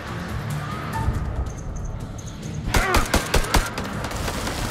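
Several gunshots ring out in quick succession in the horror video game House of Ashes, a loud burst of sharp cracks near the end following a quieter tense stretch.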